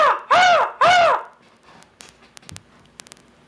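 A person imitates a crow with two loud, hoarse cawing calls in quick succession, each about half a second long, followed by a quiet room with faint clicks and small knocks.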